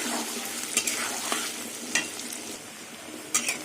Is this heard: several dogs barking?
no